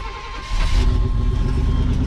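The engine of a 1974 GMC truck with a repaired driver door cranks and catches, then settles into a loud, steady rough running rumble up close, with no talking over it.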